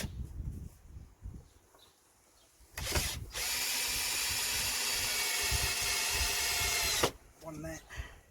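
A power drill drives a screw into wooden pallet boards in one loud, sustained whir of about four seconds, preceded by a short burst and surrounded by quieter handling noise.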